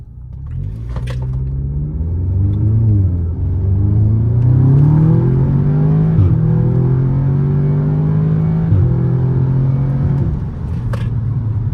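Tuned Audi S3 accelerating hard from a traffic light: a loud, close engine note rising in long pulls broken by quick dips at each gear change, heard from inside the car with no talk.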